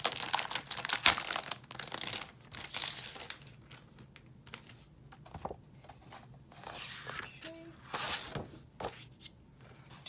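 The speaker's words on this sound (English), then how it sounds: "Let's take the papers out, and we'll save all the cards and stuff for at the end" Papers from an unboxed craft kit crinkle and rustle in close, irregular bursts of crumpling and sliding, with short pauses between handling sounds.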